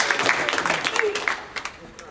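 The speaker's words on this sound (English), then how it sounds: "give yourself a nice round of applause" A youth group audience at a food bank event gives a short burst of clapping and applause, mixed with a speaker's voice and cheers over the crowd noise.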